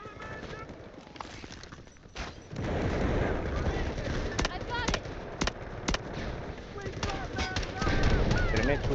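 Grenade explosion and gunfire in the Delta Force shooter game, a few sharp separate shots and a muffled blast at moderate loudness under ongoing talk.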